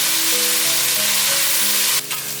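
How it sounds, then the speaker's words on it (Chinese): Carrots and red beech mushrooms stir-fried over high heat make a loud, dense sizzle under steady tonal background music, with a brief sharp scrape near the end. "现在放入红萝卜和红喜菇， 大火快炒1分钟后"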